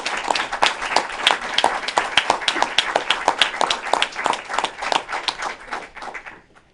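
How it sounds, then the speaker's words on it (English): An audience claps in a dense burst of applause after a governor's speech about a state of emergency ending, steady and fairly close, then thinning and fading out at the end. "That does deserve a round of applause."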